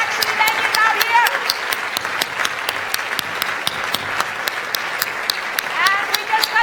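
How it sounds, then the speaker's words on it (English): An audience applauds steadily at the Royal Danish Library, a dense, even wash of many hands clapping throughout, fairly close and loud, with a few sharper claps standing out. "And now to start to clap."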